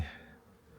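Honey bees flying around beehives at an apiary in Warsaw on a mild late-October day, a faint steady buzzing drone close by for under a second.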